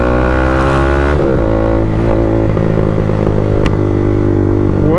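Motorcycle being ridden, its engine droning steadily and loudly up close with a rising and falling rev pitch and no pauses throughout.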